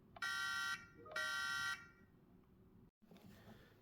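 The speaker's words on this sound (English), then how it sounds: "if you press down on the right joystick, you will get the horn" Horn of a Turbo Racing C50 RC semi truck toy, two loud electronic honks of about half a second each, bright and close, followed by quiet background hiss.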